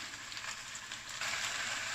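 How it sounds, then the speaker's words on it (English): Persian meat and potato patties (kotlet) frying in a hot pan give a steady, close sizzle with soft crackles, growing slightly louder partway through. "when you're frying it guys, you want both sides to fry really well"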